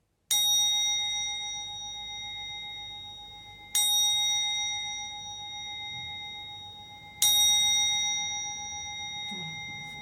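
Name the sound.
gong struck three times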